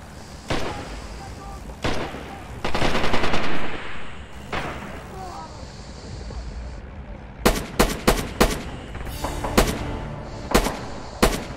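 Gunfire in the video game Red Orchestra 2, with scattered loud shots and short bursts near and far, some ringing echoes, then a quick string of sharp close shots toward the end.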